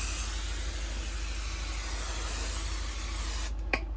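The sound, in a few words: spraying cleaner onto van panel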